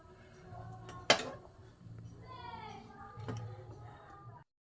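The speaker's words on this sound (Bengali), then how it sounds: "বন্ধুরা দেখুন আমি অন্য একটা জায়গায় ঢেলে নিচ্ছি, চামচে করে করে কাটিয়ে নিচ্ছি।" A spoon scoops green spinach chicken from the cooking pot into another dish, with soft scraping, one sharp metallic clink and a lighter knock, all fairly quiet.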